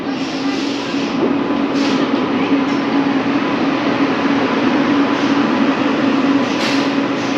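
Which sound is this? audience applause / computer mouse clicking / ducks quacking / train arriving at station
train arriving at station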